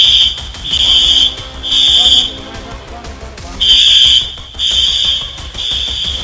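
Loud high-pitched fire alarms sounding in buildings after an earthquake in Myanmar or Thailand, ringing in repeated long bursts with short gaps, close and piercing.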